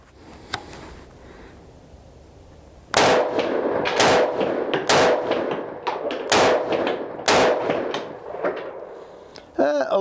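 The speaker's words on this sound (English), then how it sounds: "we'll do 5 shots in that upper right hand diamond up there and see how it does." A Tavor 7 bullpup rifle in 7.62x51 fires a string of shots at a steel target, giving sharp, loud cracks and metallic clangs in quick succession after a quieter start.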